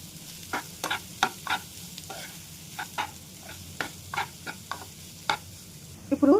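Chopped vegetables stir-fried with garlic in a pan on a tawa, with repeated, irregular spatula scrapes and tosses over a faint, steady sizzle, close by, with no talking.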